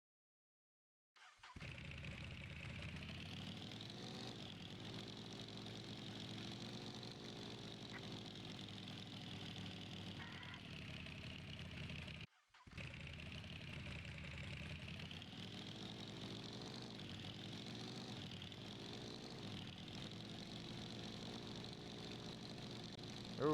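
A vehicle engine idles in a video game, a steady, even mid-pitched hum that runs continuously apart from a brief dropout partway through.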